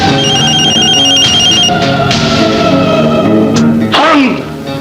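A telephone rings loudly in a Pakistani Urdu film scene, with a steady electronic ringing tone repeating through the first half over background music, followed by a sharp swooping sound near the end.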